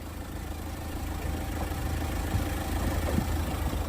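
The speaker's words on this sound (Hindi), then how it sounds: "तो ये है 2200 CC inline 4 cylinder D22 M-Hawk diesel engine" Mahindra Thar Roxx with its 2200cc inline four-cylinder D22 M-Hawk common-rail diesel idling, a steady low rumble heard up close under the open bonnet with a slight vibrating hum throughout.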